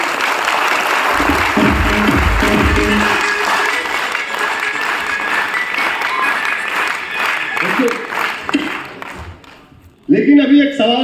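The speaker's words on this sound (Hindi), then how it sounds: "चलो आप सभी जोरदार ताली बजाओ यार।" Loud applause from a large audience at a gathering, dense sustained clapping that fills the space for several seconds before thinning out, with a voice briefly speaking at the end.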